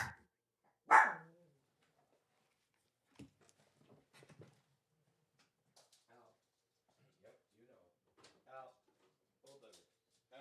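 A single sharp dog bark rings out near the start, followed by quiet murmured talk and faint scattered sounds.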